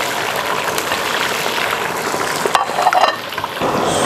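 Shrimp and potatoes deep frying in hot oil in a wok, a steady bubbling sizzle with some stirring and clinking near the end, close and fairly loud, no voices.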